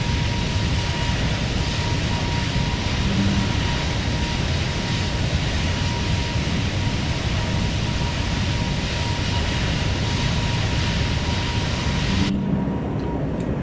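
Airbus A220 jet engines at takeoff thrust in a flight simulator, a loud, steady broadband roar with a faint whine that holds throughout and cuts off sharply near the end.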